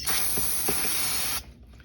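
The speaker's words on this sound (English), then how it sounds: "next you want to take your brake clean and clean all the excess oil off of the oil pan" Brake cleaner sprayed onto an oil pan to wash off excess oil, a loud, steady aerosol hiss close by lasting over a second before cutting off abruptly into quiet.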